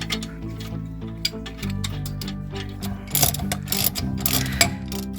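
A ratchet clicks in rapid bursts while snugging wheel lug nuts on a 2013-2017 Enclave, Traverse or Acadia after a rear shock replacement, the quick pawl ticks close and fairly loud.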